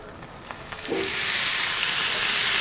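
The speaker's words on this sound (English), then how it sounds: "I'm just going to sear this outside, so that middle to be beautiful and pink" Prime rib roast hitting a hot cast iron skillet with a little olive oil, a soft onset building after about a second into a steady, close sizzle that holds to the end.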